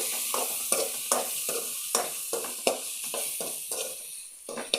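Chilli, turmeric and coriander powders stirred into a dry fish curry in a pan: repeated scraping strokes of a spoon, roughly a dozen rhythmic scrapes over a soft sizzle, with no talking.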